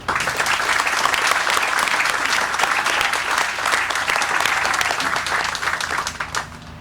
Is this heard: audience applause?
yes